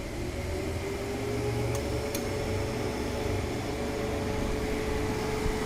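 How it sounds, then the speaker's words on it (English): A DC motor driving a three-phase alternator in a lab test setup, producing a steady, continuous machine hum and drone with a faint rising tone, with no talking over it. "now you can see the alternator and the DC motor is running"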